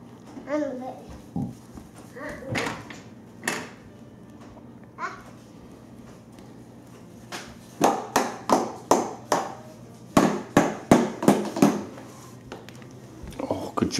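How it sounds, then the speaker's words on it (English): Sharp plastic knocks of a toy hammer repeat in a quick rhythm, building into a steady series of banging taps, while a small child babbles and an adult talks. "What about your hammer?"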